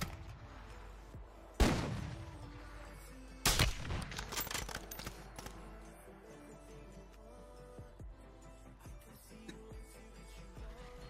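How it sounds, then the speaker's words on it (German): Gunfire in a video game, with shots coming from near a crane: two sharp loud reports are followed by a rapid cluster of shots, then fainter scattered pops under a low ambient hum. "Hör doch hier Schüsse von irgendeinem Kran."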